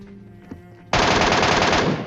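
PUBG Mobile gameplay with a burst of automatic fire from an MK rifle: after a quiet moment a loud, rapid string of shots starts abruptly and rattles on steadily for over a second.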